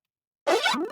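After a brief silence, a short swept bass synth tone with a flanger effect sweeps in with a whooshing, comb-filtered sheen and sliding pitch lines, close and moderately loud.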